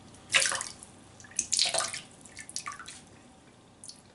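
A shaving brush is dipped and soaked in water in a bathroom sink, making a few close splashes and drips, with two stronger sloshes followed by smaller trickles and quiet gaps.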